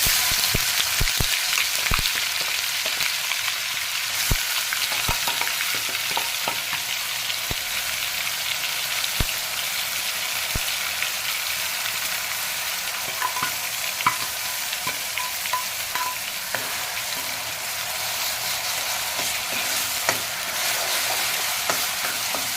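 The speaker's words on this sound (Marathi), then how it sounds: "आता जिरी मोहरी तडकल्यानंतर कांद्याची पेस्ट त्यात आपण परतून घ्यायची" Onion paste frying in hot oil with cumin and mustard seeds, a loud, dense, continuous sizzle with scattered crackles and pops, heard close and alone throughout.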